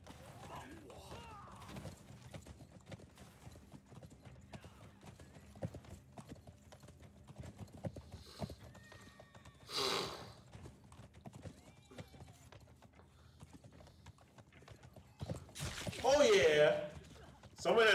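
A horse gallops with steady clip-clop hooves and gives a loud whinny in a battlefield scene of the video game Blood of Steel, with someone talking over the hoofbeats and bursts of combat noise.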